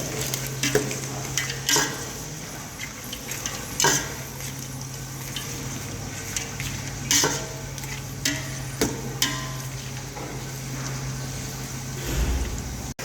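Whole spices, cinnamon, cloves and cardamom, sauté in ghee and oil for ghee rice, a steady close sizzle broken by several sharp scrapes and clinks of stirring against the pan.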